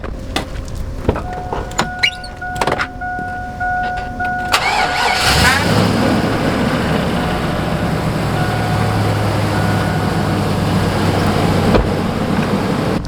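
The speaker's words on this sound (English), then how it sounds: "I'm gonna start my truck too." A truck engine cranks and catches near the start, then settles into a steady, loud idle rumble that continues to the end, after some clatter and handling noises.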